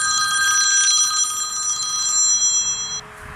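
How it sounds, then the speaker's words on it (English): A mobile phone rings at the field where a Me 163 Komet Kraftei foam model plane is flying, a steady electronic trill of bright repeating tones that runs for about three seconds and then stops, heard alone with faint outdoor noise beneath. "why didn't you put the phone on quiet"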